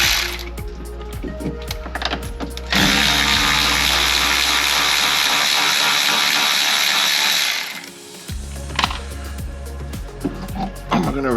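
A ratchet wrench works loose the 14mm lower shock bolt on a Club Car Precedent golf cart, making rapid close clicking in bursts, with a long stretch of steady mechanical whirr in between.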